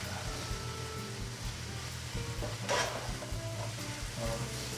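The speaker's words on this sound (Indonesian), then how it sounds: "Kita aduk kembali sampai rata." A spicy sweet balado chili paste sizzles quietly in a pan while a spoon stirs it, with soft scraping and occasional light knocks over a steady low hiss.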